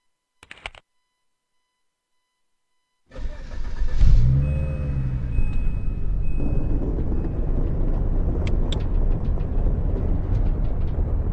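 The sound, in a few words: car driving in PS5 video game Driving Essentials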